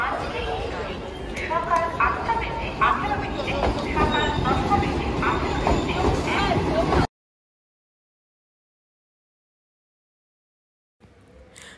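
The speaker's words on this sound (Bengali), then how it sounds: "তো ট্রেনে আমরা উঠে পড়েছি।" Inside a moving train, a steady rumble and rattle of the carriage runs under nearby talk, then cuts to silence before faint noise returns.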